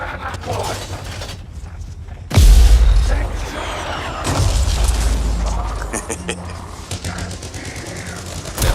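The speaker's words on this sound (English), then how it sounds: "Time to use that mortar." Mortar fire in a video game: a heavy, booming blast lands around the two-second mark, followed by a second rumbling impact a little later, set against a busy background of battle clatter and game sounds.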